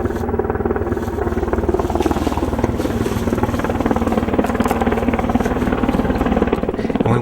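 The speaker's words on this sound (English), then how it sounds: "what to do when they hear a helicopter coming" Helicopter flying overhead, a loud steady rotor chop with a continuous engine drone throughout, close and unbroken.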